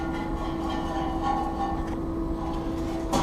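A blower motor with a bad bearing runs steadily at close range, a continuous droning hum with a rough, grinding rumble beneath it and a faint tonal whine on top, with no speech.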